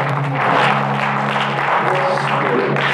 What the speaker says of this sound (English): I just want you to clap it up with the Holy Spirit.